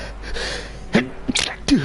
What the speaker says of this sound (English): I do apologise, sneezing down everyone's ear again